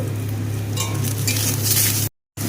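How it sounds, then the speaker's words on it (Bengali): Sliced eggplant frying in hot oil in a pan, a loud steady sizzle with faint utensil clinks, cutting out briefly near the end. "বেগুনগুলোকেও ভালো করে একটু ভেজে নেব"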